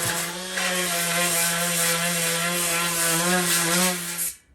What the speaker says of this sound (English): I'm just using the sander here to key up the metalwork ready for paint.